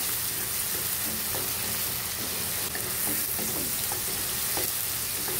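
Chopped tomatoes fry for scrambled eggs, a steady close sizzle with soft stirring scrapes and taps of a utensil against the pan, no talking.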